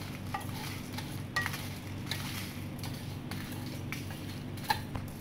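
Thick chillies dry roasting in a pan on a low flame, with a continuous soft crackle and steady stirring scrapes, occasional light clicks of the utensil against the pan.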